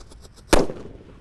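A Happy Flower disco firecracker goes off inside a hole in the ground with a single sharp, loud bang near the middle, followed by a short rumbling decay into quiet outdoor background.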